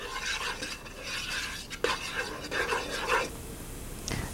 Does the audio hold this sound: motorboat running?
no